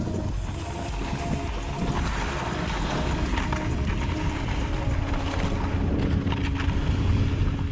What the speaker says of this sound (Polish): Wiatr jak to w górach, momentami wieje mocniej, momentami wieje słabiej